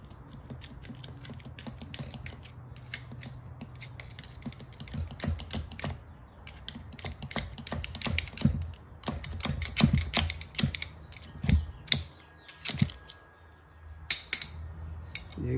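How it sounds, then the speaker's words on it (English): Flathead screwdriver working the shifter loose from a Kawasaki KX60 dirt bike, giving a long run of close, irregular metallic clicks and taps, dense and rattly with brief pauses, alone without talk. "I'm just gonna take this annoying shifter out the way. Flathead screwdriver,"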